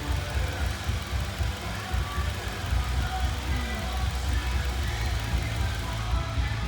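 A 2016 Subaru BRZ's engine runs steadily nearby, a low continuous rumble with a faint voice over it.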